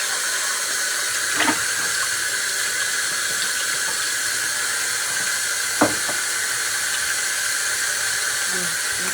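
Tap water runs steadily into a container while the water for sprouting roots is changed, a constant close hiss and splash with a couple of faint clunks.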